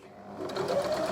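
Sewing machine stitching right-sides-together half square triangle pieces for a card trick quilt block, a steady close mechanical whir that builds slightly after a quiet start and runs continuously.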